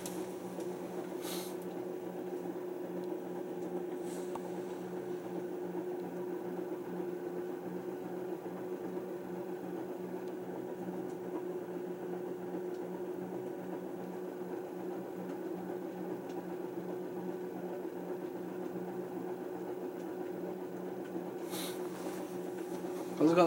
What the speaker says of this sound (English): Has it got the dryer on?